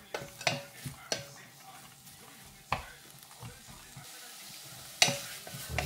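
Pork belly and raisins being sautéed in a pan, with scattered sharp utensil clicks and scrapes over a soft, steady sizzle, no talking.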